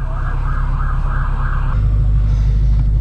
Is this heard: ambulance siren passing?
yes